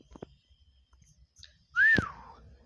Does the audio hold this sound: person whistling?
yes